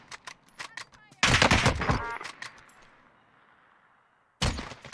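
Gunfire in the Warzone battle royale game: sharp bursts of shots, a heavy close volley that rings out and fades, then another burst at the end.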